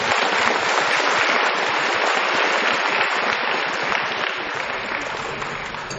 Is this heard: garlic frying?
no